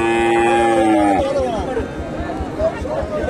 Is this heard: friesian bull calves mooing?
yes